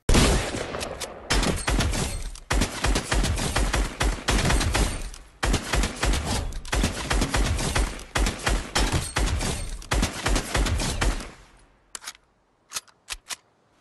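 Rapid bursts of submachine gun fire mixed with shotgun blasts from the video game Fortnite, loud dense volleys in quick succession, then thinning to a few isolated shots at the end.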